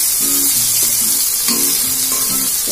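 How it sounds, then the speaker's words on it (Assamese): Brinjal and potato pieces fry in hot oil, a steady, loud, close sizzle with soft bubbling and crackle running throughout, with no voices. "বেঙেনা আলুখিনি ধুনীয়াকৈ মই ফ্ৰাই কৰি ললোঁ"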